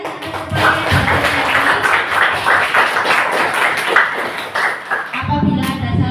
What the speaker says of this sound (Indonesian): Beri tepuk tangan yang meriah untuk kalian